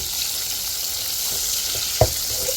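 Fish sizzling steadily in hot oil, a constant bright hiss with a sharper spatter or pop near the end, no voices.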